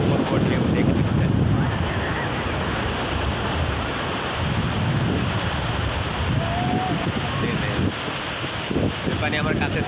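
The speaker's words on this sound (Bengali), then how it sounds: "কত বড় বড় ঢেউ দেখতেছেন।" Big ocean waves roll in on Cox's Bazar beach under steady wind buffeting the microphone, a constant roaring wash of surf filling the whole stretch with no clear pauses.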